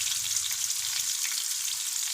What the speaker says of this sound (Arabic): ننزل بالبصل